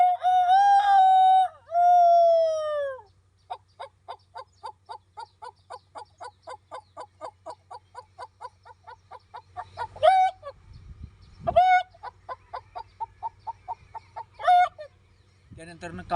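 A male mimicry artist imitates a village rooster's dawn crow with his voice, two long drawn-out crows followed by rapid rhythmic clucking bursts and a few more crowing calls, loud and close against a faint low hum.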